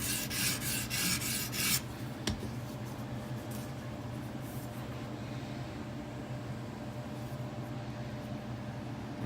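A Buck Vantage knife blade drawn across the stone of an Edge Pro sharpener, a few quick rasping strokes up close at the start, then a quiet stretch with faint scraping.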